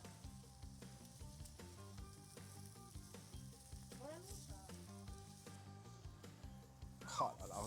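Chicken marinated in olive oil with chili fries in a pan with a faint, steady sizzle, heard under background music and a voice talking.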